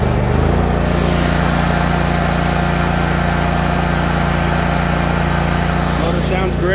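The engine of a 60-inch Troy-Bilt Mustang RZT zero-turn riding mower runs at a steady, loud, smooth drone throughout, close to the listener, with no audible change in pitch.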